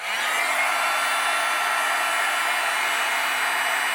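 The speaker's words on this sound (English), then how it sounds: "I'm going to use my heat gun. And I will melt this." A heat gun melting embossing powder on kraft cardstock blows a steady, loud, close airy roar that holds at an even level throughout, with no voices.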